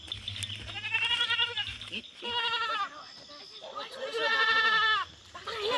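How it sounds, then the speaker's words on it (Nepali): A goat bleats in several drawn-out, wavering cries at close range, mixed with people talking nearby and a low steady hum beneath. "बाख्रा हो"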